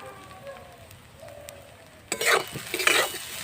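Bread pakora mixture with spices frying in a pan: a quiet start, then stirring scrapes and a lively sizzle rise sharply for the last second and a half, close up.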